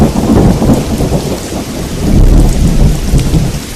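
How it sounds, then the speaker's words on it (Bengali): A cartoon sound effect of heavy rain with rolling thunder: a loud, continuous downpour under deep rumbles that swell midway, with no voices. "মাঝরাত থেকে আবার ঝিরঝিরে বৃষ্টি শুরু হয়েছে"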